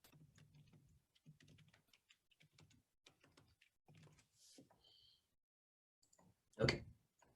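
Quiet typing on a computer keyboard comes in short bursts of rapid light key clicks separated by pauses, ending with one louder thump, close with no talking.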